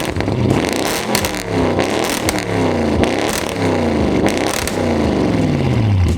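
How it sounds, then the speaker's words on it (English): An 800 hp Audi RS7 with its exhaust valves open revs hard several times, each rising roar swelling and dropping back with crackling overrun between pulls, loud and close with no talk. "It's when you open those valves up that this car really comes to life."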